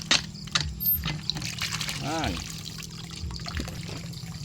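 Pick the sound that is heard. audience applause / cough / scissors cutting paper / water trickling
water trickling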